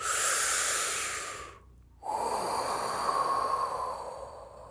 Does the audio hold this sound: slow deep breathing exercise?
yes